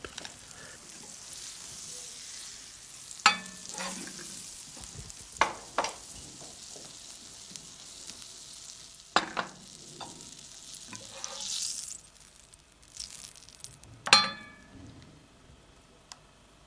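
Crêpe batter cooking in a hot pan with melted butter: a quiet, steady sizzle broken by a few sharp clinks and scrapes of utensils against the pan.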